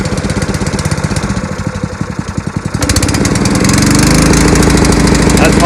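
A Honda gasoline engine driving a water pump sputters to life after a recoil pull, its rapid steady firing rising and settling into a loud, close, continuous running drone.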